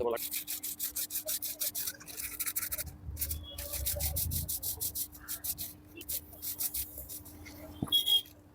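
Fingers wrapped in a plastic or carry bag scrub the inside of a copper bottle to lift green stains near the mouth, giving rapid, rhythmic rasping strokes in short bursts, close and moderately loud, with a few pauses between runs.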